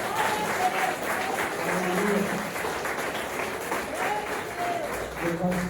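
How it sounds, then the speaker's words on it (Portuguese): A congregation at a church healing and deliverance service claps steadily and warmly throughout, with voices and music mixed in underneath. "Palmas para Jesus."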